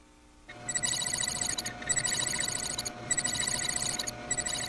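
Telephone bell rings in repeated bursts with short gaps between them, loud and close, over a low background hum with no talking.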